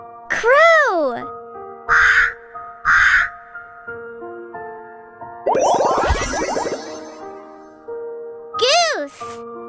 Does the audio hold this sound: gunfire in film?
no